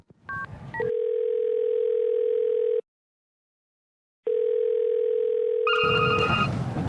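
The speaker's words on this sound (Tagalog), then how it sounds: "Sige, mag-ring yan." A telephone call ringing out: two long steady ringback tones separated by a silent gap, preceded by brief keypad beeps and followed by a burst of noise with more tones, clear and close.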